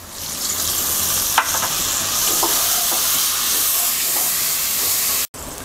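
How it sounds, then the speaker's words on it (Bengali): Spice paste of coriander, chili and turmeric powders with a splash of water sizzles hard in a pan while being stirred, a loud hissing fry with occasional scraping clinks of the spoon, no voices, and a brief cut before the end. "মশলাটাকে কিছুক্ষণ কষিয়ে নেব।"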